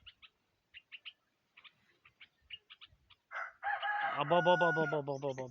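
A rooster crows loudly and close, a long ringing call after a series of soft, scattered clucks and chirps.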